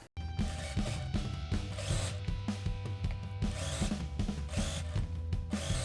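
A sewing machine stitches a hem on navy fabric with a rapid, steady mechanical chatter and hum, its rhythm pulsing briefly as the needle runs continuously, close and alone.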